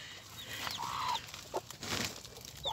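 A hen with her newly hatched chicks clucks in short, low calls, while thin high chick peeps come and go nearby, close and moderately loud in a quiet coop.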